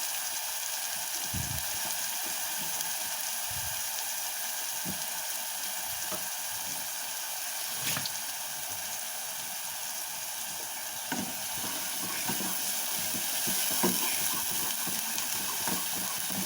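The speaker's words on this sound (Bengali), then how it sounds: "এবার মশলাটা আমি কষাচ্ছি।" Spice paste with turmeric and Kashmiri chilli fries in a pan for a prawn curry, giving a steady close sizzle throughout, broken by occasional stirring scrapes and soft knocks.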